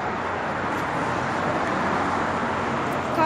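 Steady street traffic from passing cars, a continuous broadband roar at moderate level with no distinct pass-bys, and a faint voice near the end.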